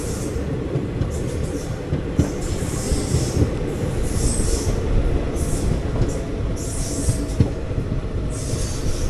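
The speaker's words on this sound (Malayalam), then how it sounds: "നമ്മുടെ അടുത്ത സ്റ്റോപ്പായ മണപ്പാറ സ്റ്റേഷനിലേക്ക് എത്തിയിരിക്കുകയാണ്." The Guruvayur Chennai Express pulls into Manappara station with a steady, loud rumble of rolling carriages, rhythmic wheel clacks and intermittent high metallic squeals from the wheels, heard from on board.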